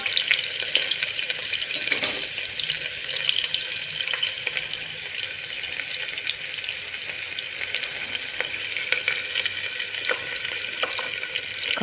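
Onions frying in a pan with asafoetida for a cauliflower dish, a steady close sizzle with soft crackle running throughout, no voices.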